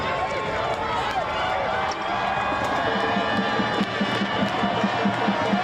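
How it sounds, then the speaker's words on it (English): Crowd noise and sideline cheering at a high school varsity football playoff game between Red Mountain and Centennial, a steady loud roar with rising shouts and rhythmic chanting toward the end, a commentator's voice running over it. "The crowd begins to liven, as well as the Centennial sideline, on the brink of a playoff victory."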